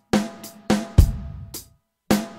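Acoustic drum kit playing the Amen break slowly, with the snare displaced to the end of beat four: a sparse, loud groove of crisp cymbal-topped hits, a booming kick and a sharp snare, with no voices.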